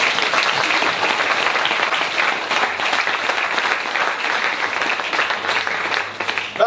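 A church congregation in Taravao, French Polynesia, bursts into sustained, dense applause, many hands clapping loudly and steadily for the full length with no break, a faint voice just audible near the end.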